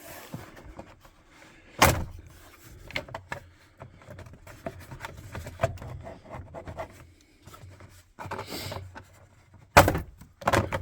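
Plastic trim being pried up from a Ford steering column: quiet scraping and rubbing with intermittent sharp clicks and snaps, two louder pops standing out near the start and end, no talking.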